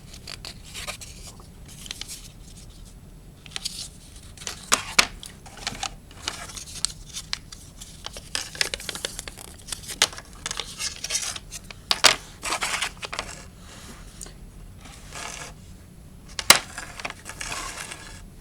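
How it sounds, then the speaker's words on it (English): Cardboard eclipse glasses being folded along their creases, giving soft crinkling, scraping and sharp paper snaps in irregular bursts, close by and fairly quiet. "To get them ready for use, you fold them where they are creased"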